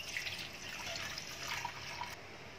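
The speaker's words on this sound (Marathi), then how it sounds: "हे बघा परत आपण दुसऱ्यांदा पाणी घालून घेतले," Water is poured steadily onto semolina (rava) soaking in a vessel for kurdai, a continuous soft splashing and trickling that stays close and even throughout, with no voices.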